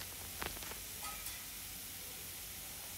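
Tomatoes frying for vegetable upma give off a soft, steady sizzle and hiss, with a few small crackles and pops early on, and no voices.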